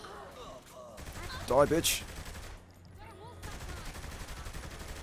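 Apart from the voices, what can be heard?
gunfire from video game Saints Row The Third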